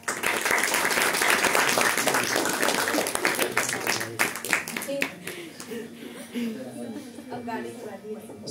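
An audience claps at an Indian classical music concert of Raag Bihag at a music hub, dense applause at first that thins into scattered claps while a voice speaks over it.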